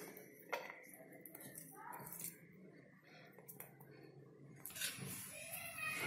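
Plates and dishes being handled in a home kitchen while making paneer pizza, soft clinks and clatters of crockery and utensils at close range, scattered irregularly among quiet room noise.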